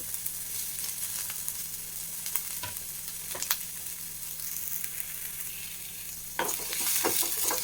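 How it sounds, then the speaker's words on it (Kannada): Green chillies, capsicum and onion fry in a pan with a continuous close sizzle, punctuated by scraping stirs of a spatula and a louder burst of crackling toward the end. "ಹಸಿ ವಾಸನೆ ಎಲ್ಲ ಹೋಗೋವರೆಗೂ ಈ ರೀತಿ ಚೆನ್ನಾಗಿ ಫ್ರೈ ಮಾಡ್ಕೊಳ್ಳೋಣ"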